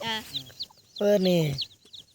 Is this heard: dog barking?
no